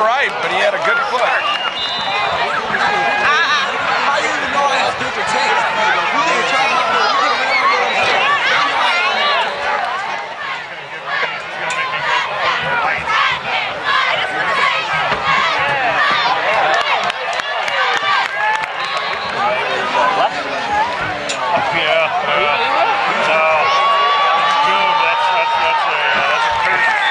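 Crowd on the track at a high school football game, Kirkwood versus Parkway Central, cheering during the second quarter: a long, dense wash of voices, shouts and chatter that stays steady and loud throughout, with a brief dip midway.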